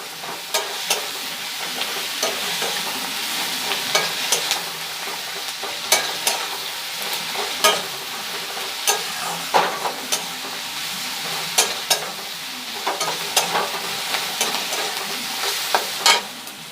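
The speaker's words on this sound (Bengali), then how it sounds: "আর পেঁয়াজটা তাড়াতাড়ি ভাজাও হয়ে যাবে।" Onions frying in oil in a pan with a little salt, stirred by hand: a steady close sizzle with repeated scraping clicks of the spoon against the pan throughout, no talking.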